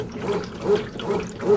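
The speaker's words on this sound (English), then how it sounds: "During the wash portion of the cycle, you will hear sounds like this." A Kenmore Classic top-load washer in its wash cycle churns with a steady, rhythmic mechanical swish and ratcheting, with water sloshing in pulses about every 0.4 seconds, heard up close and alone.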